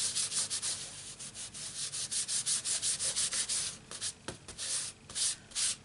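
An embossing buddy is rubbed briskly back and forth over black card stock, giving a steady run of close, raspy strokes in quick rhythm with no talking.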